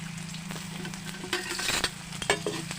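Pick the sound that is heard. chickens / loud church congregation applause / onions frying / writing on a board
onions frying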